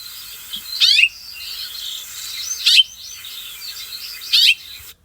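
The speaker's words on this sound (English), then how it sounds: "that is the call note of a house finch" A house finch gives its call note three times, spaced about two seconds apart: short, bright chirps heard fairly close over a quiet background of faint insect-like buzzing.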